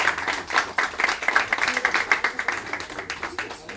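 An audience at a literary meeting claps in a lively round of applause, individual hand claps audible in quick uneven bursts that continue steadily throughout, fairly close and moderately loud.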